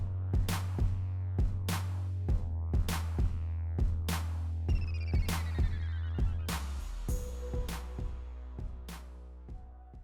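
An Epson 1430 printer powers up and runs, a steady mechanical hum with repeated clicking and rattling pulses and a couple of rising whirring sweeps, fairly close and heard without talk.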